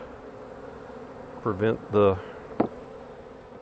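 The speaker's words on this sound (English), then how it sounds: "This is kind of hard to do with all these bees up here." Honeybees buzzing around the entrance of a small swarm nuc hive, a steady low drone running throughout beneath brief close talk and a sharp knock.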